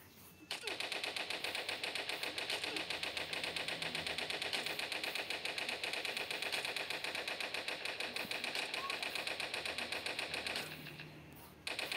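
Rapid, continuous automatic gunfire from shooting at a boss in the Toilet Monster hide-and-seek game, a loud, dense rattle running steadily for about ten seconds before cutting off near the end.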